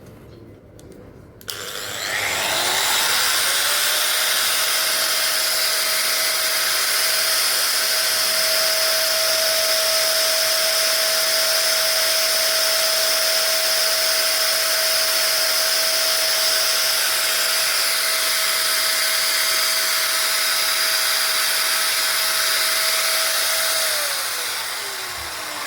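A Dongcheng DSM 10-100 angle grinder switched to maximum speed spins up, runs unloaded with a steady high whine for about twenty seconds, then begins to wind down.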